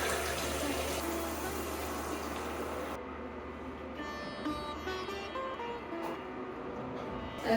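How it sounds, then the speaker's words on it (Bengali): A little water is poured into a cooking pan of sautéed onions and salt for a tilapia fish head and green amaranth dish, a steady watery hiss that softens partway through. "হালকা একটু পানি দিয়ে দেব"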